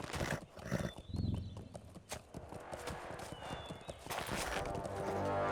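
Horse hooves clip-clop in the Lord of the Rings Online video game, a steady trotting beat with a brief neigh and background game music and ambience.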